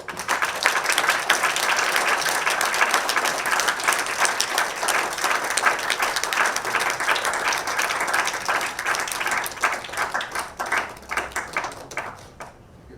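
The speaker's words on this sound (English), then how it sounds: "you have to give us a louder round of applause" An audience at a book discussion applauds in a sustained round of dense, loud clapping, many hands together, tapering slightly toward the end.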